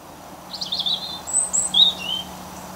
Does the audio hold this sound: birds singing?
yes